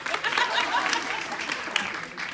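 A live audience at an NYC comedy show breaks into steady applause mixed with a few chuckles, the dense clapping running throughout before a single sharp clap near the end as it thins.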